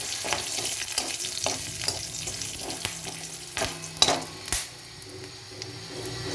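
Whole cumin, cardamom, cloves and garam masala sizzle in hot oil in a pan while a spoon stirs them, with soft scraping throughout and two sharper clanks against the pan near the end.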